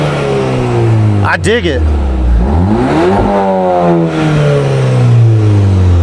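Volkswagen GTI engine revving through an Integrated Engineering sport resonator muffler, rising and falling pitch sweeps in a steady, fairly loud exhaust note, with someone talking over it.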